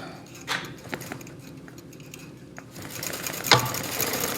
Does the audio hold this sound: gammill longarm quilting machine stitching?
yes